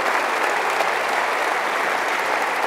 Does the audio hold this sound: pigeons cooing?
no